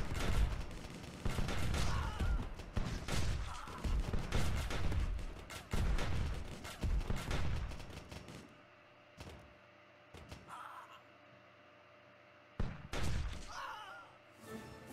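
A mortar fires in the steampunk tower-defense game Steampunk Tower 2, producing heavy booming thumps in clusters during the first half and then a few isolated blasts later over quieter background noise.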